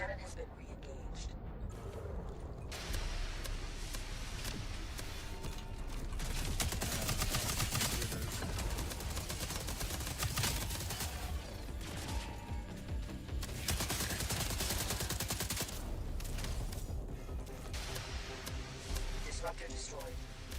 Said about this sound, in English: The cannon has been re-engaged.